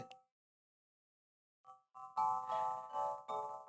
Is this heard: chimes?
yes